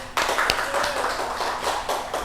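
A class of students in an Indonesian Arabic vocabulary lesson claps for a classmate named Putih: a fairly close burst of scattered hand claps that holds steady for about two seconds with no talking.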